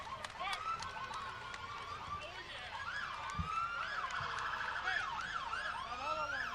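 A volunteer ambulance siren wails with rising and falling tones over background noise at a parade, fairly distant and moderately quiet, with brief thumps underneath.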